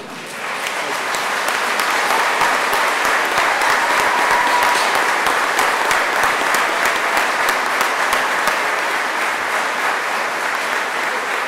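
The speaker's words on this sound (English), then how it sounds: "join me in a round of applause for the faculty and staff" Sustained, loud applause from a large crowd at a Naval Postgraduate School graduation ceremony, steady clapping filling the whole stretch with no talking over it.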